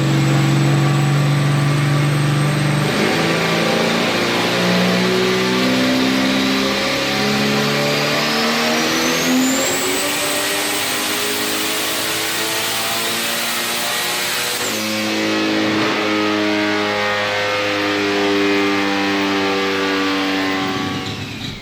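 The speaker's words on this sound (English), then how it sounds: "I love the sound of a laggy turbo setup on the street and on the dyno" A turbocharged Pontiac Sunbird engine built for high boost revs hard on a dyno, climbing through several loud, stepped pulls with a rising turbo whine, a brief drop, then another sustained run, with no talking.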